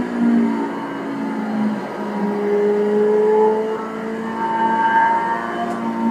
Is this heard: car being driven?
yes